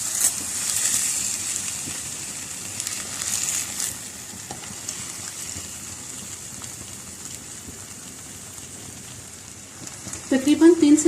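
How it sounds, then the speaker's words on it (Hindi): Chicken steak fries on one side in a pan over very low heat, a steady soft sizzle and hiss running throughout, with a louder crackling burst near the end. "4 से 5 मिनट तक एक साइड से फ्राई होने के बाद"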